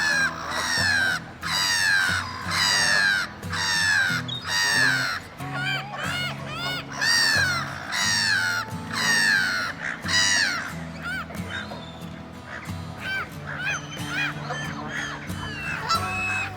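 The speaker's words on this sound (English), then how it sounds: "Black-headed gulls really don't like anyone intruding on their personal space." Black-headed gulls at a wetland site, wintering away from breeding grounds, giving loud repeated harsh calls in quick bursts, close and dominant, with other birds calling around them.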